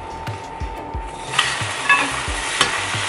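Egg-soaked French toast sizzles in a pan just after being flipped, a steady close frying hiss broken by repeated scraping and light clinks of a utensil against the pan.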